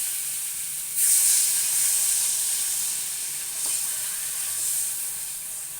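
Water poured onto hot fried masala and potatoes for a katla fish curry sets off a loud, sudden steaming hiss that holds and sizzles on for several seconds with no talk.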